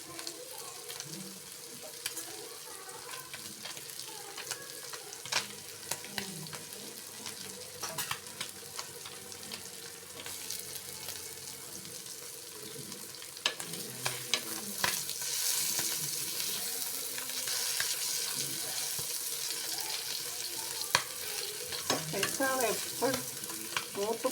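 Pieces of fried fish are turned over in a frying pan, giving a continuous soft sizzle with scattered clinks and scrapes of the utensil, close and moderately quiet throughout.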